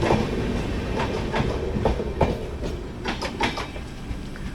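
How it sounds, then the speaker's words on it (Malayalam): The Bhubaneswar–SMVT Humsafar Express passes close by on Indian railway track, with a steady rumbling roar and rhythmic clickety-clack of wheels over rail joints that pulses throughout, and no voices. "അപ്പോൾ അങ്ങനെ ഭുവനേശ്വർ SMVT ഹംസഫർ എക്സ്പ്രസ് കടന്നുപോയി."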